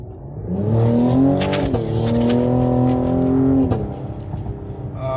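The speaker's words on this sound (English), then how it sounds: "that exhaust sound that you all just heard, that comes with this car only" A Cadillac CT5-V engine revs up loudly through its exhaust and holds a steady high drone, then the pitch drops as it eases back to a rumbling idle, with no talking.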